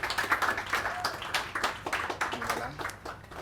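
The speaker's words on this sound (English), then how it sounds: "Please give him a round of applause." An audience gives a sustained round of rapid, uneven clapping at a talk event, moderately close and continuous, with no voices over it.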